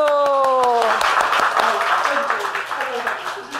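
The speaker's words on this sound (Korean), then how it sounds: "박수, 다시 한 박수." Clapping breaks out as a held musical tone fades, individual claps audible and growing denser, with a low hum underneath.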